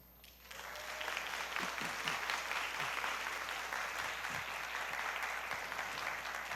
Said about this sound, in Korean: 졸업생 가족 친지 여러분과 성도님들께서는 축하의 박수를 보내주시기 바랍니다